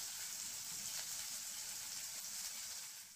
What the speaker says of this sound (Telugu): ఇందులో కరివేపాకు, కొత్తిమీర, తరిగిన పచ్చిమిర్చి వేయించి వేయించాలి.